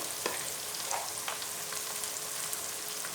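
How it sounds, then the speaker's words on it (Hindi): Powdered spices with chopped tomato fry in a pan for a radish vegetable dish, a steady close sizzle with light stirring scrapes and soft clicks throughout. "मसालों को भूनेंगे, थोड़ा सा पानी का छींटा लगाएंगे कि मसाले जले ना"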